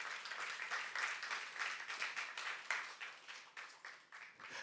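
A church youth congregation claps together in a fairly faint, slightly distant round of applause, a dense patter of hands with rhythmic surges that thins out over a few seconds.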